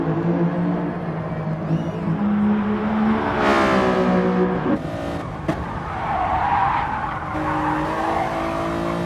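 Race cars in Gran Turismo Sport at Laguna Seca, engines whining up through gears as tires squeal and skid, loud and close with sharp shifts and a brief sweeping pass, no voices.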